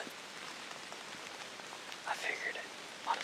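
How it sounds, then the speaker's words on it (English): Rain drips and patters off trees in wind on Missouri public land, a dense, soft, close wash of droplets with a few louder splashes toward the end and no talk. "A lot of this, what you're hearing, is just rain falling off trees."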